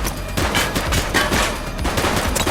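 Rapid gunfire crackles in the police game The Precinct, a loud fusillade of repeated shots in quick bursts, some machine-gun-like, spread across a couple of seconds.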